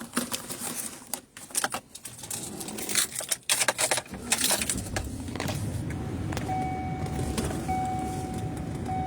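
A car pulls away from a gas station, with a burst of clicks and knocks first, then a steady engine and road rumble as it drives off, with a faint electronic tone near the end.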